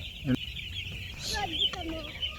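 Young chicks peep in a cold brooding pen curtained with sacking and warmed by a heater, with high thin chirps scattered across the moment over a steady background hum.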